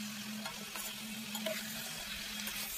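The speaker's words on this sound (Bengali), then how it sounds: "জাস্ট তেলের ওপরে এইভাবে ভেজে নেব" Chicken pieces frying in oil alone, with no water added, give a steady soft sizzle with light stirring clatter throughout, fairly faint and close, with no talk.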